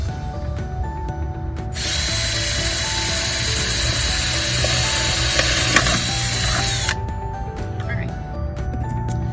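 A power tool drills or cuts holes in a plastic bucket for a worm tower, a loud, steady whine running for about five seconds with ticks and clatter around it before and after, and a person speaking in the background.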